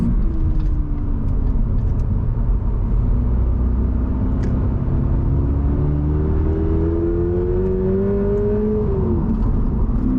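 A Subaru BRZ drives through twisty roads, its engine note rising and falling in a steady drone, with audible shifts in pitch under constant road and tyre rumble. Close and continuous, with no voices.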